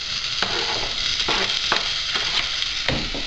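Garlic, chili and peppers fry in a pan for pasta, a steady loud sizzle with occasional stirring scrapes and knocks of the utensil against the pan, close up and without talk.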